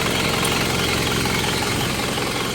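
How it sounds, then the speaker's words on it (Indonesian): The 2.5-litre engine of an automatic Isuzu Panther idles steadily with a close, even mechanical rumble and a faint rhythmic knock, continuous and unbroken throughout with no voices. "Nah ini dalam kondisi mesinnya menyala, kita cabut."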